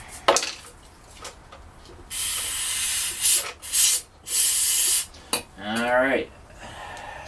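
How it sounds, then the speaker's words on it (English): Stiff brush scrubbing stuck dirt and grime off a rusty old Manco Dingo, in several loud rasping bursts separated by short pauses, with a brief voice near the end. "I'll take my brush here, loosen everything up, anything that's still stuck"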